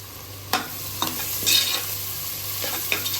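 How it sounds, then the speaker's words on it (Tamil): Onions and curry leaves sautéing in a pan for chicken kurma, a close, steady sizzle broken by a few sharp stirring clicks and scrapes, with no voices. "வெங்காயம் கொஞ்சம் வதங்கணும் வதங்கட்டும் வெங்காயம்"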